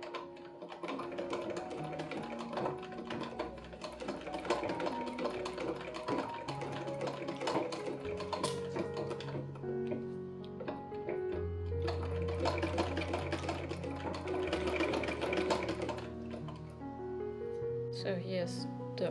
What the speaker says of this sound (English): I decided to go on with sewing it on the machine